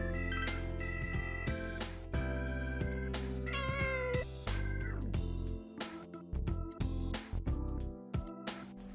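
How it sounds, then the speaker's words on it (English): A cat outside a house in the Persona 4 Golden video game meows several times, drawn-out rising and falling cries over steady game music with chiming tones. "there's also a cat outside the Dojima's house"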